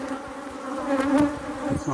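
Africanized honey bees buzz around an open hive during a colony inspection. A close, continuous drone of many wings swells and fades over two seconds, with no voices.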